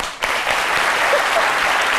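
A crowd breaks into sustained clapping that starts abruptly and continues steadily at full strength.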